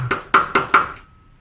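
A plastic chair glider is knocked into a chair leg with four sharp, evenly spaced knocks, close and fairly loud, ending in a brief ringing tail.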